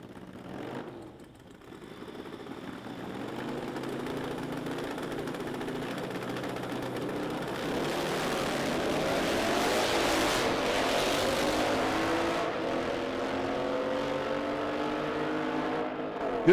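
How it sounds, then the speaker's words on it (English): Nitro drag racing motorcycles at the AMRA Ohio Nitro Nationals run down the strip in a steady, loud engine roar that swells midway and holds, heard from a distance with no talk. "Good drag race, headed down toward the big end"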